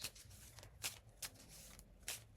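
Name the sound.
shuffling a deck of reading cards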